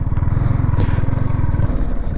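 A 2025 Yamaha R15M Monster Energy Edition motorcycle rumbles along steadily through a U-turn, its engine note loud and even with some scraping road and wind noise.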